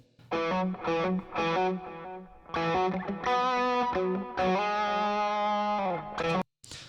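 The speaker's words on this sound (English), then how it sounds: "let's listen to this guitar solo just so you can hear it as it stands today" A distorted electric guitar plays a sustained melodic solo, notes ringing with delay and reverb, ending with a brief gap and a final pluck.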